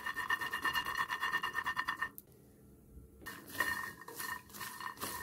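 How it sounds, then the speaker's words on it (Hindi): Peanuts roasting in a pan on a gas stove, with a steady rattling, clinking rhythm of nuts being tossed against metal, a brief pause partway through, then the clatter resuming, close and fairly quiet. "गैस पे पैन चढ़ाएंगे, इसमें मूंगफली को डालेंगे और इसे भूनेंगे"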